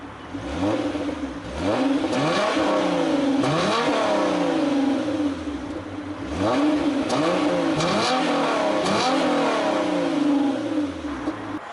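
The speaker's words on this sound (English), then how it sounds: "twin aluminum finished triangular exhaust tips, this thing really makes a wicked sound" A 2016 Hyundai Genesis Coupe 3.8 revs repeatedly, exhaust roaring up and dropping back through twin triangular tips in a series of loud, throaty blips.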